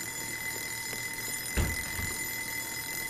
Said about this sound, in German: ach, Tatsache, es ist echt ein Wecker